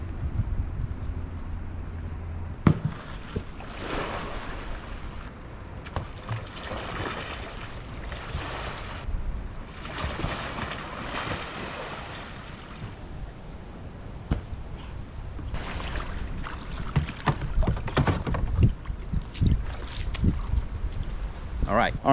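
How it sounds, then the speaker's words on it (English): A kayaker wearing a cheap drysuit rolls a kayak over in open water, giving sloshing splashes and surges of water under wind noise on the microphone, with brief bursts of movement at the start and end. "I'm gonna go in there and try to roll a couple times first, and then I'm gonna swim"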